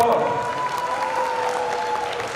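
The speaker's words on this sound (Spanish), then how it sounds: "Un aplauso, por favor." A conference audience at a symposium applauds a speaker being welcomed to the stage, a dense, steady wash of clapping that holds evenly at full strength throughout, with a faint sustained tone beneath it.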